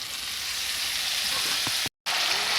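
Spices including turmeric, dried chili and black pepper sizzle in a pan as a little water goes in while a tilapia curry cooks, giving a steady close frying hiss with a brief dropout near the end.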